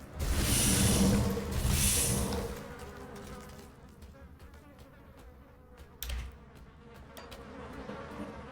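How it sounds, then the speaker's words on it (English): Insects buzz loudly in the video game Grim Dawn, a dense droning swarm that swells in two strong waves before settling into a quieter ongoing hum with scattered clicks and thuds. "Don't even like the buzzing sound that you get."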